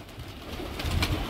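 Soft, low pigeon coos murmur close by, a gentle throaty burbling that swells slightly toward the end over a faint background hiss.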